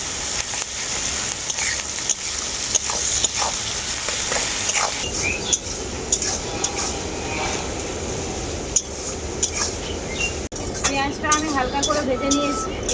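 Salted onions fry in a pan with a close, steady sizzle and scattered clinks of a utensil, while a person talks over most of it.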